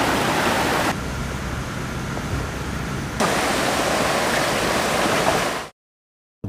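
Floodwater from the opened spill gates of the Dethuru Oya reservoir in Sri Lanka roars in a loud, unbroken rushing wash, steady and close, before cutting off abruptly near the end.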